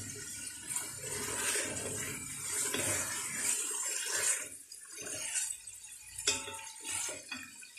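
Water is poured into a pan of frying chicken nihari with its masala, a steady rushing pour with some sizzling and splashing that fades and breaks into shorter spurts toward the end.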